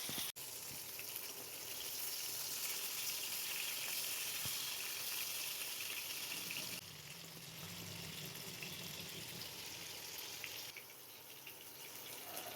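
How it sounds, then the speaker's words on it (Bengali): Pieces of chitol fish frying in oil over medium heat give a steady, close hiss and sizzle that dips slightly partway through, with no talking. "মাছের টুকরোগুলোকে এক এক করে দিয়ে দিচ্ছি। মিডিয়াম আঁচে দু পিঠ আস্তে আস্তে করে ভেজে নেব।"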